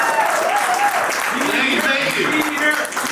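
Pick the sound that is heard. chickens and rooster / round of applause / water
round of applause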